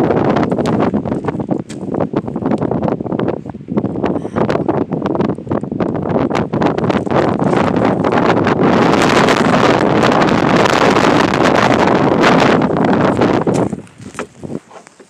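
Loud wind buffets and roars against the microphone in rough, gusty bursts throughout, dropping off abruptly near the end.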